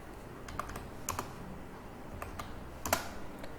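Sparse, quiet clicks of a computer keyboard as someone types C code, a few scattered keystrokes and small bursts spread over a few seconds against a soft background hum.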